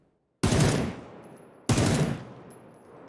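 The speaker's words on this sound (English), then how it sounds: "The burst mode will fire 3 bullets" M762 assault rifle in burst-fire mode in the video game PUBG: two loud, sharp bursts about a second apart, each ringing out and fading, with no voices.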